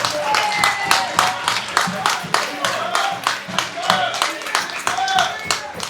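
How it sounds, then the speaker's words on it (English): A community meeting audience gives a round of applause in a housing gathering, with distinct hand claps landing in a fairly regular rhythm, close and lively, sustained for several seconds. "Can we get another round of applause?"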